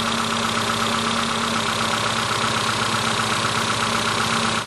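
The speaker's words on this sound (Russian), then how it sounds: "Заводим автомобиль." The engine of a ZAZ Tavria car, which has an oil pressure sensor leak, idles steadily and loudly close by, a constant rumbling drone that cuts off abruptly at the end.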